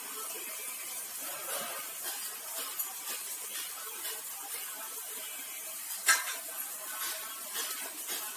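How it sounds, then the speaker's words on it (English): A pot of Poricha Kuzambhu, a thick vegetable stew, being stirred: soft, steady scraping and slurry motion under faint sizzling, with one brief sharp clink of the spoon against the pot. "Giving a small mix to the entire vegetable stew or Poricha Kuzambhu"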